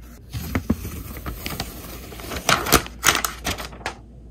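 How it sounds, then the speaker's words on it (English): A new 11-inch Space Grey iPad Air 2024 being pulled out of paper wrapping, with close crinkling and papery rustles in irregular bursts, growing louder near the end. "I'll take it out of the paper."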